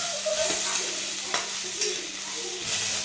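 Cluster beans (gavar) roast in a pan, sizzling steadily while a utensil stirs and scrapes them a few times, close and alone with no talk.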